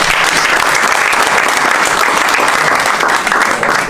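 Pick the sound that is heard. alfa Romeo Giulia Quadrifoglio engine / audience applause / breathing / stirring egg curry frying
audience applause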